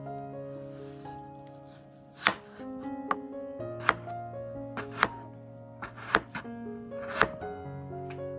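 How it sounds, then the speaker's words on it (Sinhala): A knife chops ash plantain on a board in about eight sharp, separate thuds spaced irregularly over several seconds, with soft instrumental music playing underneath. "දැන් අපි අලගෙඩිය කපා ගන්නවා."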